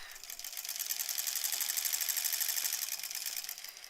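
A sewing machine stitches rows of a granny squares quilt with a fast, even mechanical whir and rapid needle clatter, close and steady throughout, with no talking.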